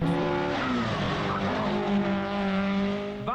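A Ford Escort rally car drives a stage, its engine note rising and falling as the tyres squeal and skid, loud and near for a few seconds.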